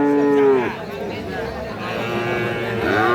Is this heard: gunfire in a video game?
no